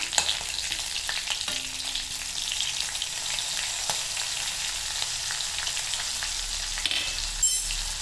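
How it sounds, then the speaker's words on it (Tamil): Slit green chillies and curry leaves sauté in hot oil in a pan, a steady close sizzle and crackle with a few faint stirring scrapes and no talking. "அதை அப்படியே போட்டுட்டு கொஞ்சம் நேரம் வதக்கணும்."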